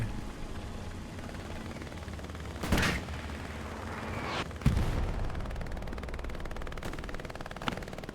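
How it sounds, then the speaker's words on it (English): Distant machine gun bursts in the Hell Let Loose World War II shooter on the Omaha map near Vierville-sur-Mer: a few sharp cracks and short bursts, one louder, over a steady rumbling battlefield bed. "MG going off somewhere."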